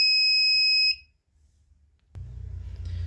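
A gas leak detector's buzzer sounds a loud, steady electronic tone for about a second and cuts off, followed by quiet and then a low rumbling hum.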